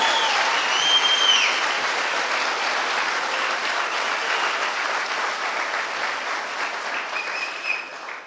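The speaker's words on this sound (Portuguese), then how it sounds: "Aplauda bem forte ao Senhor Jesus." A church congregation at a Sunday celebration service claps loudly and steadily, a dense, sustained applause that fades slightly toward the end, with no talking over it.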